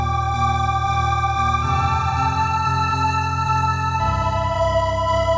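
Sonicware Liven Texture Lab granular synth playing high-octave sustained tones with shimmer turned off, a bright layered drone with a pulsing grainy low texture, shifting pitch twice across a few seconds.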